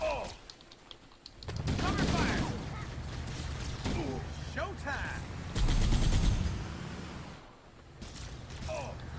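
Marines in the Halo CE Anniversary video game lay down covering fire, with bursts of rapid automatic gunfire and scattered shots swelling and fading in loud clusters, mixed with mechanical clatter and brief in-game voices.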